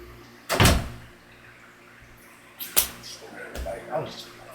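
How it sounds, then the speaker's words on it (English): A door shuts indoors with a sharp thud, followed by a couple of softer knocks and shuffling handling noises nearby. "Close the door."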